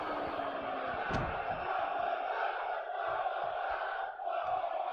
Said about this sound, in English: The crowd are chanting one more time.